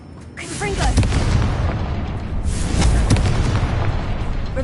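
Confringo fire spell explosions in the video game Hogwarts Legacy, two loud booming blasts with crackling bursts, close and heavy, the second following about two seconds after the first.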